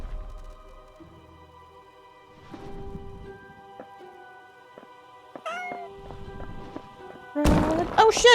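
Several short, clear meows from a cat in the game House Flipper 2, spread over quiet background tones and ending in a louder burst of game sound, with a voice talking briefly in places.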